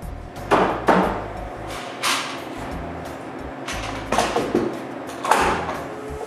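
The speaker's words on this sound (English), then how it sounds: "The dominoes just keep both planks aligned while the glue dries. Then I clamp it out." Clamping glued wooden planks aligned with dominoes in a woodworking shop: a series of knocks, clacks and mechanical clicks at irregular intervals as clamps are set and tightened, close up with no talk.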